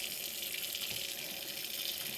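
Hot water runs from a kitchen tap for hand washing, a soft, steady splashing hiss that is faint and continuous.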